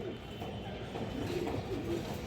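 Pure-bred pigeons, a breeding pair offered for sale, coo softly in low wavering calls, faint and partly buried in broad background noise.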